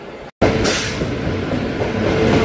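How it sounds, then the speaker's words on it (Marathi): A Diva-Roha MEMU train from Kalva car shed at a station, loud and close, with a continuous rumbling roll and a brief break near the start, no voices. "इकडे दिवा रोहा मेमो आलेली आहे कलवा कारशेडची 188030 कलवा कारशेड दिवा रोहा मेमो"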